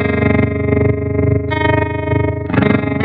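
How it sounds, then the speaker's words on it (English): A sustained, distorted instrument tone passes through an effects preset with a second fast tremolo, pulsing and shifting in a loud, dense, chorused wash with swells and re-attacks, with no voice. "this is where we've introduced a second tremolo into our sound"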